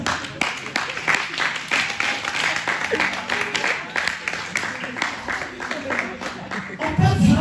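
A church congregation applauding at a Sunday service: scattered then fuller rhythmic clapping from a crowd, mixed with voices speaking and calling out over it.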